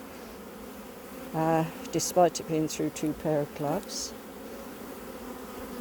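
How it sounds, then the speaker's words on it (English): Bees swarm around an opened beehive, their steady buzzing filling the background while a person talks over it. "When we opened them up, I was covered in bees."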